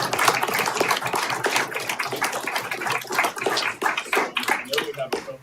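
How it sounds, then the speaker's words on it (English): An audience at a city council meeting applauds in a dense, continuous patter of many hands clapping at fairly close range, sustained throughout without voices rising above it. "So how about we give them a round of applause?"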